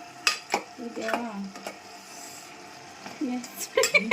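Pepper chicken being stirred in a pan in a home kitchen: scattered scraping clinks of a utensil against the pan over a low sizzle, with people talking between the strokes.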